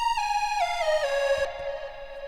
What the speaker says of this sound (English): We got our ping pong delay on